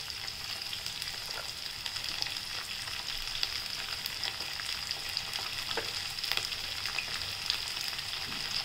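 Cabbage, carrot and mixed vegetables stir-fry in a hot pan for vegetable Hakka noodles, a steady close sizzle running throughout with occasional light scrapes and clicks of stirring.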